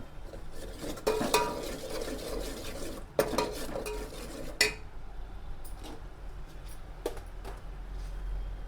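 A spoon stirs ground onion with turmeric and salt in oil inside a pot for mutton curry, giving irregular metallic scrapes and clinks against the pot. Bursts are louder early on, then turn sparser and quieter over a faint sizzle.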